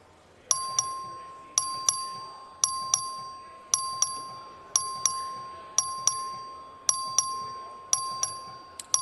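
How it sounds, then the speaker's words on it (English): A voting bell rings in the Texas House chamber during a record vote, nine evenly spaced clear metallic dings about a second apart, each ringing out and decaying before the next, loud against a quiet room. "The clerk will ring the bell."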